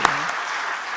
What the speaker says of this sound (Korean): 박수 한번 날까요?